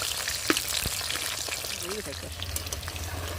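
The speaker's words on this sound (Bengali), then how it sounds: "তোমাদের আজকে আমি দু রকমের বড়া একই সঙ্গে ভেজে দেখাবো" Pumpkin flower fritters and water lily fritters fry together in one wok, giving a steady bubbling sizzle with a few sharp pops, close and moderately loud, with no talking.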